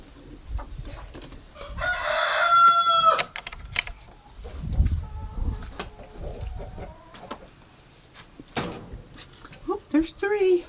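Backyard hens cluck and a rooster crows in a coop, with scattered clucks and rustling near at hand and a person speaking softly among them.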